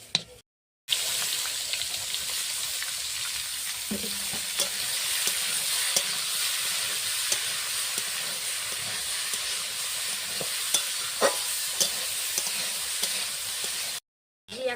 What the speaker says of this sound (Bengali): আমি সব সবজি একসঙ্গে ভেজে নিচ্ছি